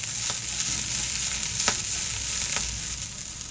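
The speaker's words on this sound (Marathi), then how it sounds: "थोडा कढीपत्ता घालूया आणि मिनिटभर परतून घेऊया." Curry leaves and coriander stems sautéing in hot oil for a prawn rassa masala, giving a loud, steady, close sizzle with a few faint stirring clicks.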